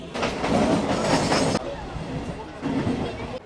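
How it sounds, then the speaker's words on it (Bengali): A train departing Bandel for Naihati Junction rumbles and clatters along the rails at a steady pace, with people talking faintly in the carriage. "ব্যান্ডেল থেকে নৈহাটি জংশনের জন্য ট্রেন ছেড়ে দিল"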